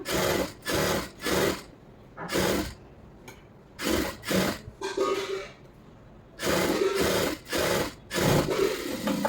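A sewing machine stitches a lining blouse, running in short bursts of rapid whirring needle clatter separated by brief pauses, about a dozen runs in all, close and clear.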